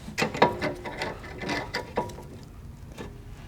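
A brake caliper piston tool is turned clockwise against the caliper of a 2012-2018 MK6 VW GLI during a brake pad job, giving a series of close, irregular metallic clicks and ratcheting scrapes that thin out toward the end.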